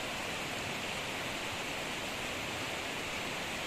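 The Citarum River flows past near Sanghyang Tikoro as a loud, steady rush of water, a dense and unbroken roar with no voices over it.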